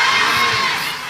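A crowd at an Islamic religious gathering cheers and shouts loudly, children's voices prominent in a dense, sustained roar that eases slightly toward the end.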